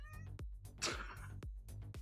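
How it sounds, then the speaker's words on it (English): A pet cat meows several times in short, close, moderately loud calls with one drawn-out whiny meow in the middle, no talk over it. "This is my kitty."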